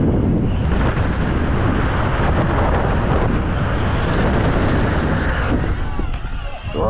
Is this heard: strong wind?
yes